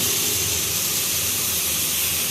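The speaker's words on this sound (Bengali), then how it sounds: "মাছের তেলটা রান্না করছি।" Fish oil fries hard in a pan over a home-built stove, giving a loud, steady, close sizzling hiss that fills the whole clip without a break, with no voices.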